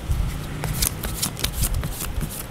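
Tarot cards are shuffled and drawn close by, a quick run of crisp papery riffles and flicks in an uneven rhythm.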